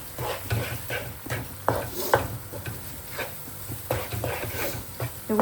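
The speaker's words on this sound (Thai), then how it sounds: "ผัดให้เข้ากันนะคะ" Thai food is stir-fried in a pan, with a low steady sizzle under repeated scraping strokes of a utensil against the metal at an irregular rhythm. No one speaks.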